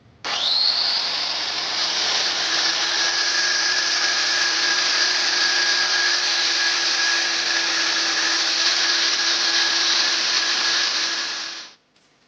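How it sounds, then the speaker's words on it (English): Hand grinder sharpening an old axe head that spent about 60 years in the ground, the axe clamped in place; a steady, loud high-pitched whine with a sustained tone runs unbroken for about eleven seconds, then stops. "I've just put a quick edge on it, just using the hand grinder"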